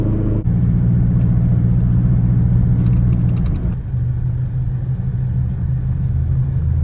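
A car engine rumbles steadily while driving, loud and close, with a brief clattering passage midway before the drone settles lower.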